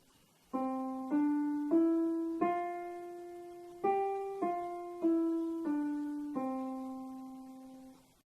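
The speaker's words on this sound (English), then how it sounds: "if I have a fermata on the 4th note of the piece I played, it would sound like this." A simple melody of eight clear, steady notes, the fourth one held noticeably longer than the rest before the tune continues.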